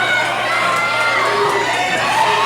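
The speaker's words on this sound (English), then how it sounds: "Looking out at this capacity crowd as they're urging him on" A capacity crowd at a PPW PowerSlam professional wrestling show roars and cheers steadily, loud and sustained with high-pitched shouts and whoops mixed into a dense wash of noise.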